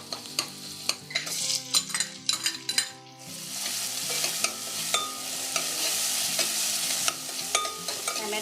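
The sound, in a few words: mashing onion and tomato in hot oil in a pan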